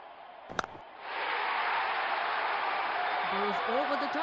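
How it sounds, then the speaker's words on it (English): A cricket stadium crowd at an IPL super over between KKR and RR swells into a loud, sustained roar of cheering and applause after a brief sharp knock, with a voice briefly rising near the end. "Crowd is going crazy."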